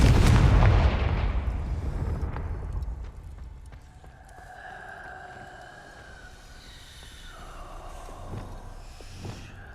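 A Confringo spell in Hogwarts Legacy detonates in a loud, deep boom that rumbles and decays over several seconds, leaving faint magical tonal shimmer and a couple of soft thuds in the quiet afterward.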